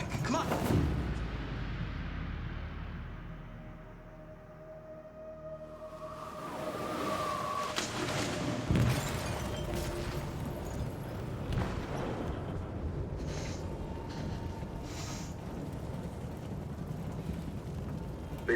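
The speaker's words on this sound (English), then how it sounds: "They detonated an explosive in the hold." Explosive detonating in a ship's hold in the game Detroit: Become Human, a deep booming blast followed by a long rumbling roar, crashing debris and a tonal hum, with a faint voice underneath.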